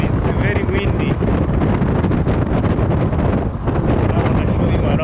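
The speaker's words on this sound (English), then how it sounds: "It's very windy" Strong wind buffets the microphone on a road near Kilimanjaro in Tanzania, a loud, constant low rumble that never lets up, with a voice partly buried beneath it.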